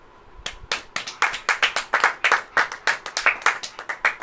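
A church congregation claps hands in a steady, brisk rhythm, about four claps per second, close and sharp, with no talking over it.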